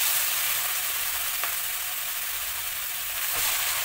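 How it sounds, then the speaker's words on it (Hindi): Grated carrots tipped into hot ghee for carrot halwa, giving a steady close sizzling hiss throughout with a couple of faint clicks from the pan. "हम इसमें सारा गाजर एक ही बार में डाल देंगे। हम इसे घी के साथ अच्छे से मिक्स कर लेते हैं।"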